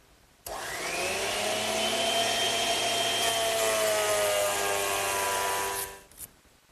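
A woodworking machine shaving a thin cut off a wooden sofa post, spinning up with a loud steady whine and roar for about five seconds before winding down, close by.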